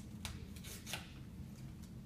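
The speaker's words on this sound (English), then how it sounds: "let me use this wonderful tool of pair of scissors to cut" A pair of scissors snipping through a paper strip, giving a few faint, quick crisp cuts over a steady low background hum, with no talking.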